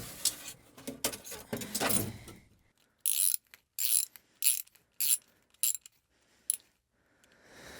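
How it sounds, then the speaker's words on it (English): Several short, separate ratcheting bursts come from hose clamps being tightened on a ridge vent, each a sharp, close clicking spurt with quiet gaps between them, following an earlier stretch of rustling handling. "I'm gonna try and put a bunch more hose clamps on it and see if I can get it fixed"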